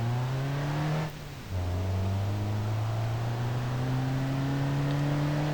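Diesel off-road vehicle with a modest-size engine accelerating in the driving game BeamNG.drive, a steady droning engine note climbing in pitch with a brief dip as it shifts gear, then rising again toward motorway speed.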